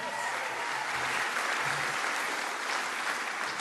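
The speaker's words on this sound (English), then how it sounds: "I think that's worthy of a round of applause" An audience at a Women in Leadership event in Liverpool claps steadily for several seconds, a dense, even round of applause from a seated crowd with no voices above it.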